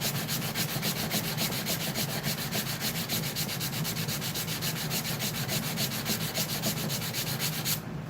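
Sanding wood by hand with 150 grit sandpaper makes steady, rhythmic back-and-forth scratchy rubbing strokes that are close and moderately quiet, with no talk.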